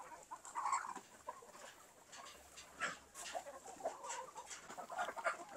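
Native chickens cluck and murmur repeatedly at a moderate distance, a scattered farmyard chatter with no voices.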